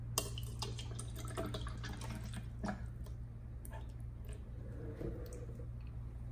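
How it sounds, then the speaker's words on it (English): Purified water is poured into a small test cup, with soft splashing and trickling plus scattered drips and clicks over a low steady hum, close and fairly quiet. "Let's pour some water in."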